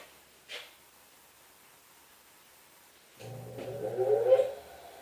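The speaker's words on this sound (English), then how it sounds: "So now we're going to put it back onto the Derek Weaver balancer" A Derek Weaver wheel balancer spins up a wheel after a quiet pause, giving a rising mechanical whir with a steady hum that swells and then eases off, heard close with no talk.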